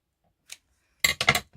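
Scissors cut paper for a junk journal: a faint single snip, then a quick cluster of three or four crisp close snips, loud against a quiet room.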